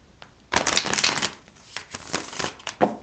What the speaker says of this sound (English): I give it 3 shuffles.